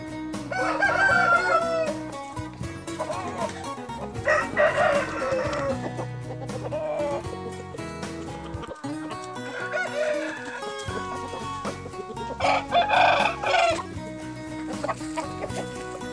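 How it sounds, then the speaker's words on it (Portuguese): A large galo pedreiro rooster, a barred farm cock, gives repeated loud crows and clucks close by, several calls in a row over roughly sixteen seconds with short pauses between them. "Esse aqui também é bitelão, galo pedreiro, muito bonito, ó."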